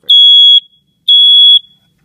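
Two loud, piercing electronic beeps from a GE Interlogix TX-6010-01-1 smoke alarm during a test-button press, each about half a second long, separated by a short silence.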